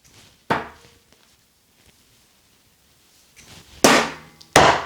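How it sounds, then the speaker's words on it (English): Three sharp, loud thuds of Bulls darts striking a dartboard, one alone early and two close together a few seconds later, with near silence between. "this is my first throw with these darts"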